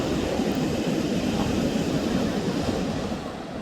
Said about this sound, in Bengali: বর্ষার সিজনে সমুদ্র কি পরিমাণ উত্তাল।